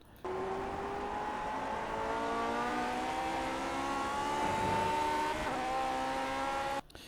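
A Lotus 49 race car in iRacing at Silverstone gives a continuous high-pitched engine whine that climbs and settles through throttle changes, heard alone and fairly loud for several seconds before stopping.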